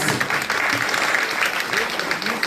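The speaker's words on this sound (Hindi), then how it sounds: "तालियों की कमी नहीं रहनी चाहिए प्लीज" A crowd at a school annual day claps continuously as student names are read out, a dense wash of hands with voices mixed in under it.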